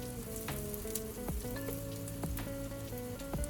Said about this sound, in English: put some oil into the rice cooker and start by adding your small onions